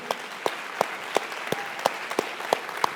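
Steady rhythmic clapping at a church service, sharp claps repeating at an even pace, moderately loud with no talking.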